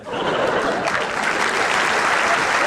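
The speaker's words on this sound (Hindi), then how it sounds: "ये ताली बजाने की थोड़ी बात है" An audience at a spoken lecture or talk bursts into applause, dense steady clapping from many hands, loud and close and sustained for the whole stretch.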